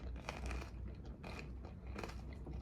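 Someone chews gooey caramel-coated maple popcorn up close in short wet crunching bites, with a few soft sticky bursts and no talking.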